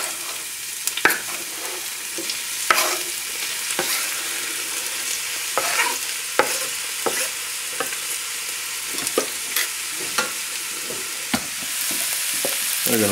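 Diced vegetables sauté in three tablespoons of hot oil for a Creole sauce, a continuous close sizzle broken by intermittent scrapes and clatters of a spoon stirring the pan, with no talking.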